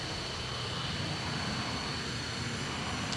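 Boeing 727-200 jet engines in a Flight Simulator X cockpit, a steady broadband roar with a faint high whine, constant and unbroken, no voices.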